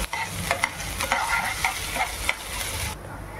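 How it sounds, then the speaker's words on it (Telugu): Ginger garlic paste sizzles and fries in a pan while a spoon stirs it, with scraping clinks at irregular moments over a steady close frying hiss, ending with a quieter tail. "ఇప్పుడు 1 table spoon ginger garlic paste వేసేసుకుందామండి. ఒకసారి బాగా మిక్స్ చేద్దాం."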